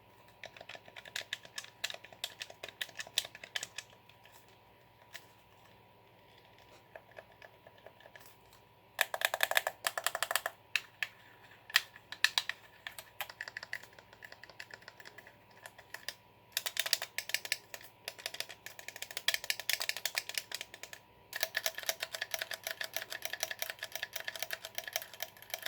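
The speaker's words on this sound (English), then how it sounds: "here's a little sound test of all the buttons" Quick plastic button clicks on an EasySMX ESM 9101 wireless game controller come in scattered bursts and rapid runs, some sharp and close, with quieter stretches of single presses between them.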